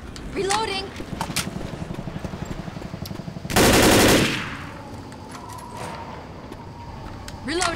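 Rapid automatic gunfire in the video game Left 4 Dead rattles in a fast steady burst, then a louder harsh blast, with voices talking between the shots.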